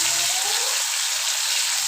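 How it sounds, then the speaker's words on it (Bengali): A short burst of continuous, even sizzling as prawns fry in oil in a pan, close and loud, with no voices. "দেখো মাছগুলোকে আমি এদিকে করে ভেজে নিচ্ছি"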